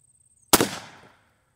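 A homemade hand bazooka fires a spark plug shot: one sudden, loud, sharp bang with a short rumbling decay, alone against quiet surroundings.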